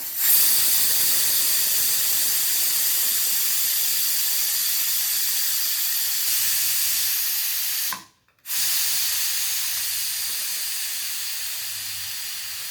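Steam hisses loudly and continuously from a home pressure cooker as its whistle weight is lifted, with one brief break before the hiss resumes.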